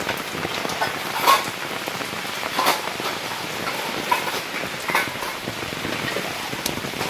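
Steady rain pattering on a surface, with heavier drips landing now and then, continuous and moderately close throughout.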